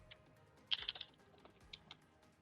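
Quiet, close keystrokes on a computer keyboard while HTML code is typed, an uneven burst of clicks with a brief rapid cluster in the middle and scattered taps after, with no voices.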